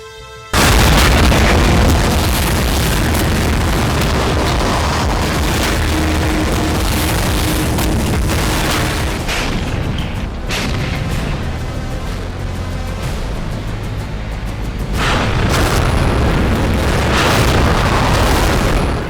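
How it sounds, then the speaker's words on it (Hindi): Heavy booming blasts ring out, loud and close, followed by rumbling echoes and a sustained roar of repeated firing. "बारूद बरसाती तोपें"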